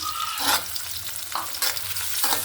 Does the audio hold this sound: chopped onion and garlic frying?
yes